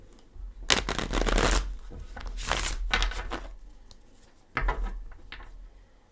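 Gilded Tarot cards shuffled by hand in close, crisp bursts of riffling and sliding card noise, separated by quieter pauses, with soft handling bumps in between and no talking.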